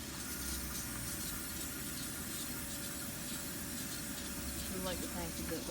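A steady, airy hiss of a pump sprayer spraying runs throughout at moderate level, with faint low rumble underneath and no clear breaks.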